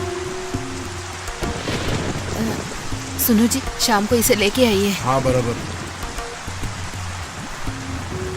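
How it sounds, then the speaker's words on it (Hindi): Heavy rain pours in a steady, dense hiss throughout while voices converse over it. "अरे कैसा बारिश है ये"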